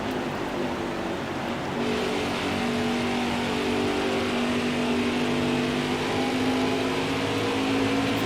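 Race car engine drone from the NASCAR Heat 5 video game during an Xfinity Series race at Phoenix, a steady mid-pitched whine held at constant loudness throughout with slowly shifting tones, no talk over it.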